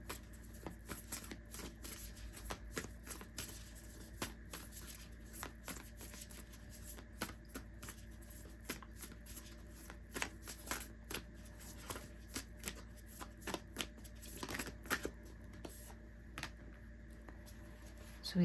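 An oracle card deck from the Moonology line being shuffled by hand, with a steady run of soft riffling and flicking cards close by and no talk.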